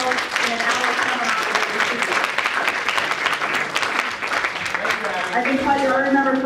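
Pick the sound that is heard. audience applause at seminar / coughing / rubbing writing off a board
audience applause at seminar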